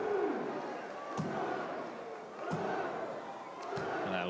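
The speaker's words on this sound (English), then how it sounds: "You hear this French crowd getting into it" Spectators at the STIHL Timbersports team world championship in Toulouse, France, cheer and roar in a large venue as sharp chopping impacts ring out periodically, with a commentator's voice running underneath.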